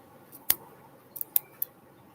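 Scissors snip through yarn wound on a Clover pom pom maker, several sharp, close clicks spaced irregularly over a quiet background, with a quick double snip in the middle.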